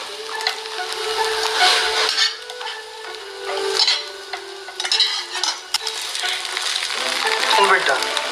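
An egg omelette sandwich fries in a pan as it is flipped and pressed, with steady close sizzling broken by scraping spatula and clattering pan sounds throughout.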